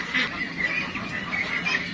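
A flock of meat ducks quacking at feeding time on a farm, a dense, overlapping chorus of nasal calls that runs steadily and fairly close, with no voices.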